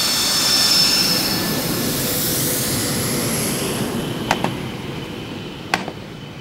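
A Saab JAS 39 Gripen fighter jet at the Trident Juncture military exercise gives a loud, steady broadband jet roar that slowly fades, with a few sharp clicks near the end.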